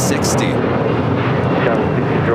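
An Airbus A350 departing for Atlanta sends up a dense, continuous roar of jet engines, loud and near, with a brief high whine at the start and talk faintly under it.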